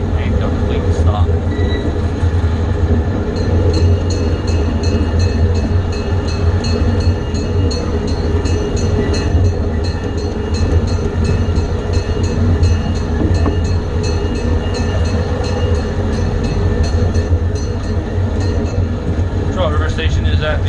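A small zoo train at Jacksonville Zoo rolls along its rails with a continuous loud rumble and rhythmic clicking of wheels, while a recorded announcement plays over it as it approaches a station.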